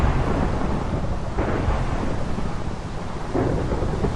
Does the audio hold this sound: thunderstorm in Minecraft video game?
yes